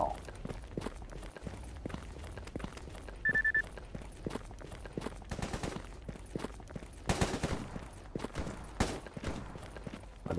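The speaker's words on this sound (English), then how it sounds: "And I hear gunfire," Gunfire in the video game Stalker Gamma: scattered sharp shots at a distance, with a couple of louder bursts late on, mixed with footsteps and background game noise.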